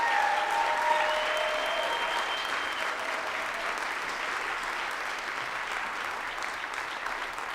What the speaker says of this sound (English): Let's give them an applause again.